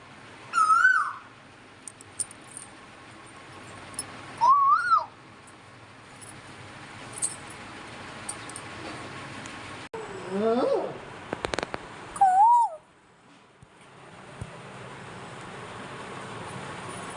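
An Asian koel calls a few times, each rising whistled 'koo-oo' spaced several seconds apart, clear and fairly close over a quiet background.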